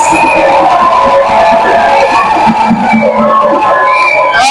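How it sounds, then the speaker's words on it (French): A church congregation shouts cries of joy together, a dense and loud mix of overlapping voices, whoops and exclamations rising and falling continuously. "Reçois ces cris de joie"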